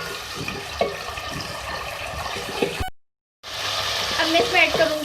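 Chopped tomatoes and softened onions are stirred in a frying pan with a steady sizzle and spatula scraping, broken by a brief cut to silence before the sizzling resumes.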